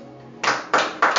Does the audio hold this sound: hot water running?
no